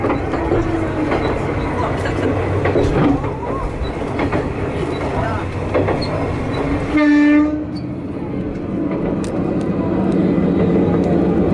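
A Matsuura Railway train departs a station with a steady rumble of wheels and engine, and a short, loud horn blast sounds midway. Faint crowd voices murmur in the background.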